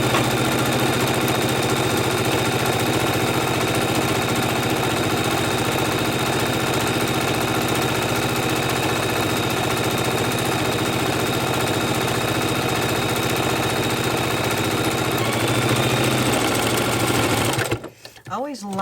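A sewing machine runs steadily as it stitches the long side seam of a fabric tote bag, whirring loud and continuous for about seventeen seconds before stopping abruptly at the end.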